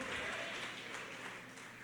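Church congregation applauding during a sermon, a soft, continuous spread of many hands clapping at a distance, slowly fading slightly toward the end.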